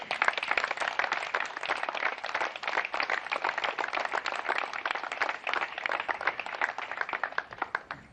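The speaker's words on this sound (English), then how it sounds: "give these outstanding student athletes a round of applause" A crowd gives a sustained round of applause for student athletes at an NCAA Division II men's tennis championship, dense steady clapping that continues throughout at moderate volume.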